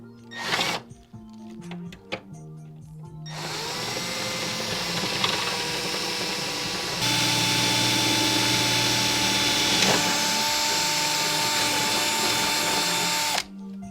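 Handling clatter, then a power drill whirs steadily for about ten seconds, its pitch stepping up partway through, loud and close before stopping.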